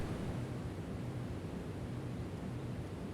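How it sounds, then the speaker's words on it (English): A waterfall in the video game Shiraga - Ghost on the Shore, a steady full-band rush of falling water that stays even and continuous throughout, with no voices over it. "It's a waterfall."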